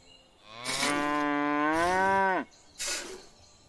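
A cow in the Medieval Dynasty video game moos once during milking, a long, loud, close, drawn-out call that falls in pitch at the end, followed by a brief second sound.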